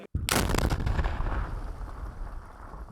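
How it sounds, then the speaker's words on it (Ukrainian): A demolition charge detonates in a single powerful blast close by, followed by a long rumbling roar that slowly fades. "За три хвилини лунає вибух."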